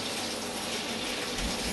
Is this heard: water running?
yes